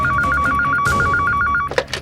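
A telephone bell rings loudly and close in a tense police drama scene, a rapid steady electronic trill that stops abruptly, followed by a few faint clicks.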